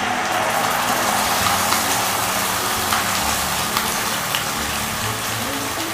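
Steady, dense sizzling as a chicken mixture for Chicken 65 hits hot tadka tempering in a pan, a continuous crackling hiss that stays even and close without pause.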